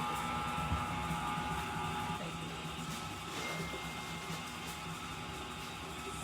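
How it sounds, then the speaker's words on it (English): An electric mixer runs steadily on high, creaming butter for gingerbread cookie dough, its constant whirring drone filling the room at an even level for several seconds. "I hope you can hear me over the sound of the mixer"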